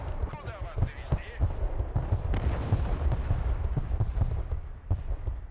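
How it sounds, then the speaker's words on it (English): Artillery pounds in Broken Arrow, a dense run of heavy booming shots and blasts with rumbling low thuds in close succession, while a voice talks over the barrage. "My teammate's very trigger happy with artillery."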